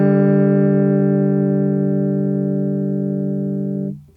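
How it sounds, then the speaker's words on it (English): A single sustained electric guitar note, tuned down from sharp to in tune, rings loud and steady with rich harmonics for about four seconds before cutting off abruptly. "they'll tune from a sharp note down to an in tune note"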